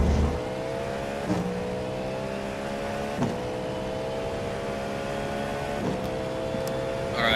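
A race car engine drones in iRacing during the Sebring 12 Hours, a sustained loud tone with faint gear-shift dips every couple of seconds.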